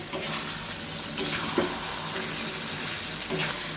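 Fried potatoes being stirred into chicken kosha cooking in a pan: a steady broadband sizzle with a few scraping spoon strokes at about 1.2, 1.6 and 3.4 seconds, fairly quiet and continuous with no talking.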